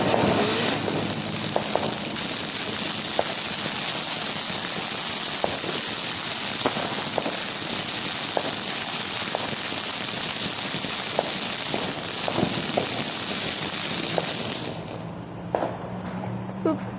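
Fireworks for a 4th of July celebration: a steady roaring, crackling hiss with repeated sharp pops and bursts at irregular intervals, fairly loud and continuous before cutting off near the end.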